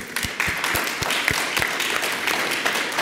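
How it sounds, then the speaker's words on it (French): Audience at a French secularism award ceremony applauds, a steady, moderately loud clapping crowd with several sharper individual claps standing out near the front. "je pense qu'on peut vraiment l'applaudir"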